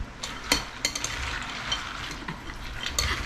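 Peanuts being stirred in a frying pan for binusang mani, with scattered scrapes and light clinks of the utensil over a steady low sizzle, close and alone without any voice.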